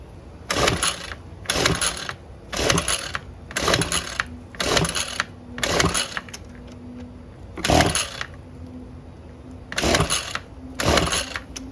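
Repeated pull-cord starting attempts on a Ryobi gas weed eater, about nine short ratcheting bursts at a steady rhythm; the engine never catches.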